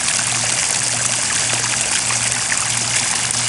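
Sump pump discharge of crawlspace condensate water, a steady, continuous trickling stream of water pouring out without pause, close and fairly loud, with a low steady pump hum underneath.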